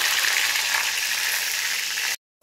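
Curry leaves and small dried red chillies frying in hot oil in a pan for potato rice, a steady close crackling sizzle for about two seconds before it cuts off abruptly.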